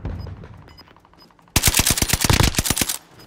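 Rapid automatic gunfire in a video game battle royale bursts in loud and close, a dense run of sharp shots lasting over a second before cutting off, after a quieter stretch of faint distant pops.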